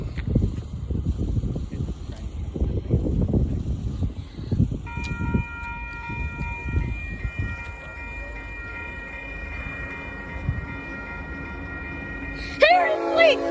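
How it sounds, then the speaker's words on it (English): A heritage train with Western Pacific heritage equipment rumbles past with heavy low rolling noise, then steady tonal whines from the engine emerge, and a brief horn-like blast sounds near the end, with voices talking over it. "Today, we got a train coming."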